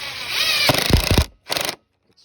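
Cordless impact driver sinking screws while shiplap is installed under a deck, heard as a loud whirring run broken into rapid hammering bursts, then a short pause and a second brief burst.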